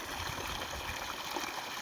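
Clear water gushes steadily from a newly drilled borewell about 75 feet deep, a soft, continuous splashing hiss with no voices.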